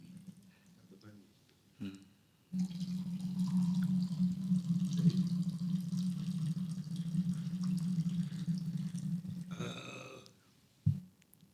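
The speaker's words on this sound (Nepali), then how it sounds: "मैले तपाईँकै रोजाइमा तातो पानीको व्यवस्था गरेको छु" Hot water pours in a steady, fairly quiet stream for about seven seconds, with brief handling sounds before and after.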